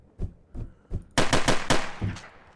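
Gunfire in the video game Trouble in Terrorist Town: a few spaced single shots, then a dense rapid burst of automatic fire that trails off.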